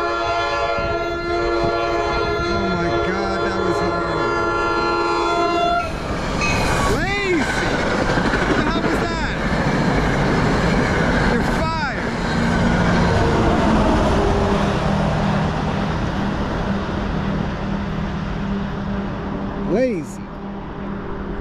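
A New Jersey Transit commuter train rumbles loudly past during the morning rush, steady wheel and rail noise filling the whole stretch with brief squeals and clanks, and voices talking over it.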